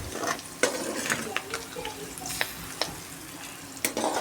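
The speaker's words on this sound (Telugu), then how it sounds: "అందుకే ఇప్పుడు మంచిగా వేయించుకుంటున్నాం." Food fries in oil in a pan while being stirred for flavoured rice, a soft, continuous sizzle broken by scattered clinks and scrapes of the spoon, close and fairly quiet.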